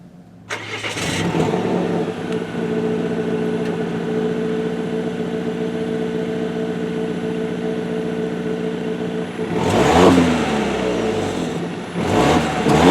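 A 2017 Volvo V60 T6 R-Design fires up by push button, a brief crank catching into a steady mid-pitched idle that holds, then swells with a couple of short revs near the end.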